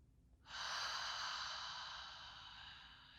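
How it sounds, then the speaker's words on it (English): One long, deep inhale, slow and airy, as part of a guided meditation breathing exercise. It swells quickly, then holds steady and close with no talking. "Breathing in, inhaling from the belly up to the lungs."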